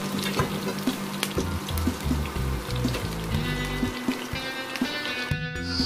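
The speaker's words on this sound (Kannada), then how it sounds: "ಇದಾದಮೇಲೆ ನಾನು ಈರುಳ್ಳಿ ಹಾಕ್ತಾಯಿದ್ದೀನಿ." Onions hit hot oil in a pan on a stove and sizzle and crackle loudly and continuously, with stirring scrapes, close up and without voices.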